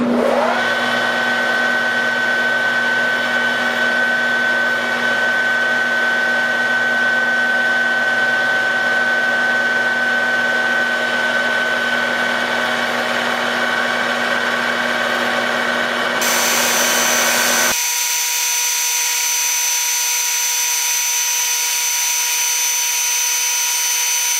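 A lathe facing off a part for a desktop gyroscope makes a loud, steady motor whine with a constant tonal hum, then shifts abruptly to a higher, thinner pitch near the end. No one speaks.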